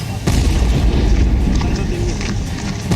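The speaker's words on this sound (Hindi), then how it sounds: "धमाके की सिर्फ आवाज का ही क्या असर हुआ।" A chemical factory blast in Thane, India: a sudden loud boom breaks in, then a rumbling roar of heavy broadband noise continues for several seconds, with voices faintly audible under it.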